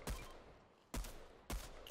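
Three sharp shotgun blasts in the Fortnite video game, each a loud percussive boom with a short decaying tail, spaced roughly a second apart.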